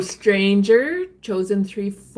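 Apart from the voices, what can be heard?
No everyday noises stand out.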